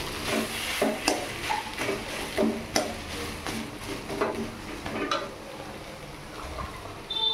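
Spoon scraping and clinking against a pan as sugar melts while cooking mocha, banana flower, in a home kitchen; soft rhythmic stirring strokes over a quiet background sizzle.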